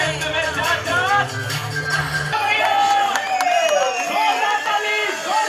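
A crowd cheers and whoops for Bhojpuri film stars on a ramp walk at a celebrity cricket event, a loud dense roar with scattered shouts and some clapping, with voices over it and music in the background.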